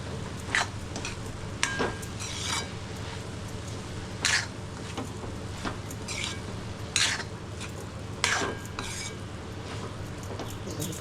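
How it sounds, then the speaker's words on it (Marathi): Grated coconut being stirred into cooked kantoli (spiny gourd) vegetable in a pan, with steady scraping and spoon clinks against the metal and sharper knocks every couple of seconds, close and alone without talk. "ह्याच्यावरती मी खोबरं घालते आता सर्व मिक्स करून घेते"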